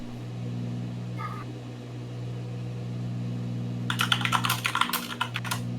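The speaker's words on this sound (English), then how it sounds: "Sounds like my keyboard." A computer keyboard clatters in a quick burst of typing near the end, preceded by a steady low drone and a brief faint chirp, with no talking.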